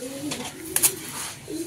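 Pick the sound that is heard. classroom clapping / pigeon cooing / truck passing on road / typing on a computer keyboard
pigeon cooing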